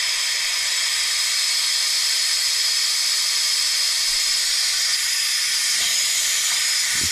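Steady loud hiss of steam escaping from a Stuart 10V model steam engine run on about 18 pounds of steam pressure, a continuous broadband rush close by with no talk over it.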